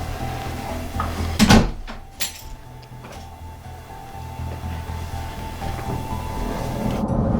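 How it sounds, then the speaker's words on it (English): A house door closing on a cold day: one loud thud, then a smaller knock, followed by steady low room hum. No talking. "You can close the door, it's cold outside."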